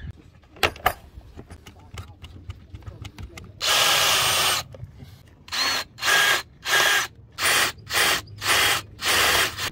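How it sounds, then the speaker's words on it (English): A power drill whirs in one long burst drilling out rivets on a Dufour 31 sailboat, then in a series of short, evenly spaced bursts, after a stretch of light clicking and tapping nearby. "So what I do is I drill those out"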